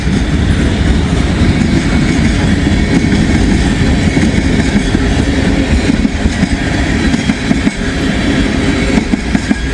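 A train rolls past close by in Wyoming, a loud, unbroken rumble of rail cars with faint clickety-clack and occasional squeals, no voices.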